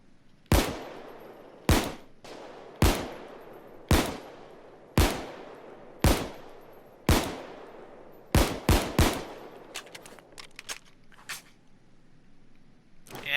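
M1911 Crosskill pistol fire in the video game Payday 2: sharp, loud single shots come about a second apart, then a quicker cluster of shots, and each crack rings out with a short decaying tail.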